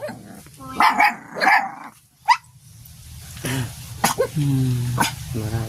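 A dog barks in short bursts, a few sharp close barks followed by yips and whimpering sounds, with occasional human voices in between.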